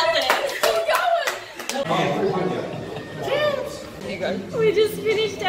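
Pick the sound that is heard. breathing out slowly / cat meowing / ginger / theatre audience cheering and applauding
theatre audience cheering and applauding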